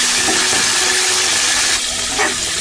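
Chicken pieces sizzling in very hot ghee in a pan, a loud, dense, continuous frying hiss that stays close and steady throughout with no talking.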